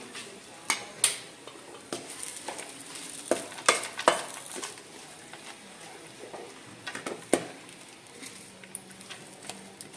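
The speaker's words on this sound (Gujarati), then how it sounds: "બધું મિક્સ કરી દઈએ." Cashew and almond powder being stirred into a sweet mixture in a pan, with scattered scraping and clinking of a spoon against metal over a soft sizzle, close and fairly quiet throughout.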